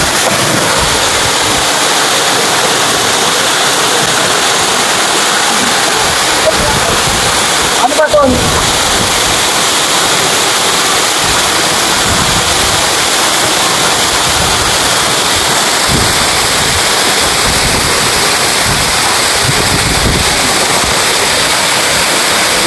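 Abang Falls waterfall pours in a loud, constant broadband roar of rushing water close by, with a brief splash-like disturbance partway through.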